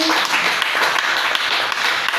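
A church congregation claps for Jesus, a dense, steady burst of many hands applauding together in a large room.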